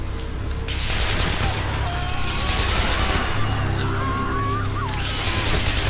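Sustained gunfire from workers shooting back in the video game Hatred, dense bursts and volleys rolling continuously over a low rumbling bed, with thin whining tones drifting through the middle.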